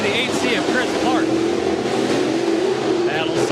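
Modified race cars battle side by side at Southern Iowa Speedway, a steady loud engine roar running throughout under an announcer's commentary.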